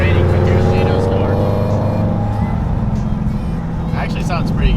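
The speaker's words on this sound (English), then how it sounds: "here's Gino's car" A Whipple-supercharged Mustang GT tuned on E85 drives by in the rain, its deep, loud engine rumble steady and close throughout, with faint voices near the start and end.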